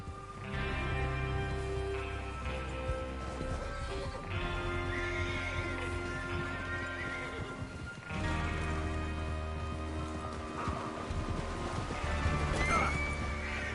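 Horses in the video game Red Dead neigh and whinny repeatedly while hooves clop on the ground, several loud close calls layered over steady clip-clop through the whole stretch.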